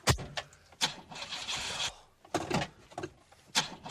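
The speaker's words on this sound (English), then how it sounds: "tried to start your 1970s Morris, it would respond by making a noise like this." A 1970s Morris car on a cold winter morning, its engine cranking over in several uneven bursts without catching, sputtering and whirring with short pauses between attempts, heard fairly close and fairly quiet.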